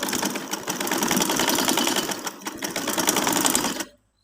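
A sewing machine stitches a trouser seam in one continuous loud, close run of rapid mechanical whirring, then stops abruptly near the end, no talking.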